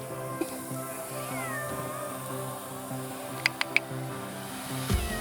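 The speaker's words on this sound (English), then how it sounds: "He's such a scaredy cat." A cat meows a few times outdoors in a permaculture orchard, fairly close and clear over a steady background hum, with brief sharp sounds partway through.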